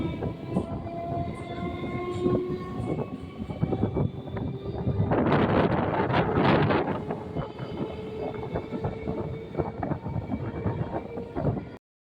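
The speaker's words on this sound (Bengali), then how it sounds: "ট্রেন এখন জগদ্দল স্টেশন ছেড়ে বেরিয়ে যাচ্ছে" A train rumbles and clatters along the rails, pulling out of Jagaddal station, with a louder surge of rushing noise midway before settling back into steady rolling.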